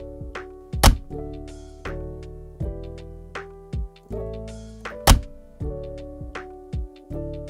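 Stamp impact sound effect added in Premiere Pro: a series of hard, close thunks, about nine hits roughly half a second apart with two louder slams among them, each with a short ringing tail.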